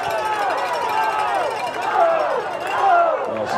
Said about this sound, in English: Pumped up crowd here tonight.